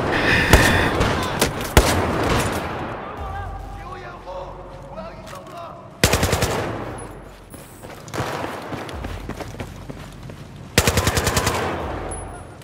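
Automatic weapon fire in the Battlefield 4 campaign on the Singapore airfield level, heard as rapid loud bursts at the start, middle and end with quieter game sounds between; a person talks over parts of it.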